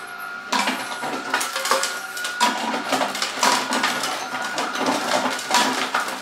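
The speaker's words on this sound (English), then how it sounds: "I'm gonna take that ice and put it into the ice crusher" An ice crusher grinding ice, a loud continuous rattling crunch with repeated clattering bursts of hard ice chunks, close and mechanical throughout.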